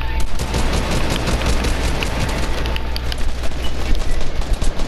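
Rapid bursts of gunfire from a Fortnite match crackle loudly and continuously, with dense overlapping shots and booms throughout, amid the new-year fireworks season.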